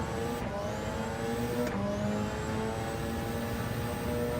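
A race car at Road Atlanta accelerating under throttle, its engine holding a strong, steady whine that rises in pitch and briefly resets twice, heard loud and close with no talk.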